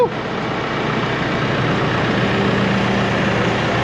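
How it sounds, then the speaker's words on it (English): Old tractor engine idling steadily just after being started, a low continuous rumble that stays even and fairly loud throughout. "Please start, tractor. It hasn't been started in a while."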